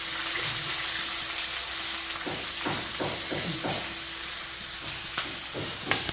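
Onion frying in hot oil with cumin, garlic and curry leaves for a tempering, a soft continuous sizzle broken by several scraping stirs of a spoon in the pan.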